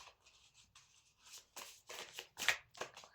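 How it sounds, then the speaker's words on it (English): A deck of cards is shuffled close up, a soft riffling flutter in quick bursts that builds into a denser, louder riffle before tapering off, quiet overall. "Let me shuffle them."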